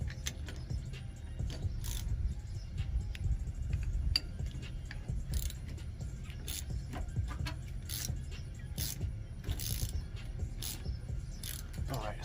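A box end wrench clinks and scrapes against metal on the rear brake of a GMC Savana 3500 6.0L van, giving scattered sharp metallic taps over a low rumbling background, with occasional brief speech.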